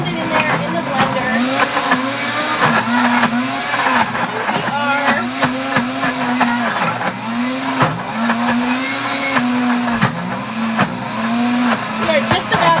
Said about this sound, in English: I'm just gonna blend this till it's nice and creamy